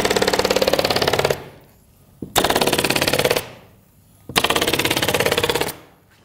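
An automatic staple gun fires rapid strings of staples through insulation mesh into wall studs, making three loud machine-gun-like bursts, each about a second long, separated by short quiet pauses.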